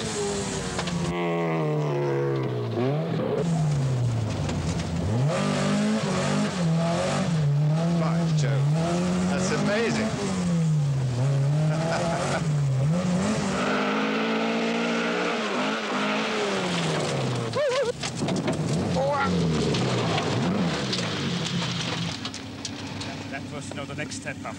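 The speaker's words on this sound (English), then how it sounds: "Yes, I've never been in a rally car in rough road. It's a bit more noisy." Rally car engine revs and roars continuously while driving fast over a rough road, loud and close from inside the cabin throughout, with people talking over the engine noise.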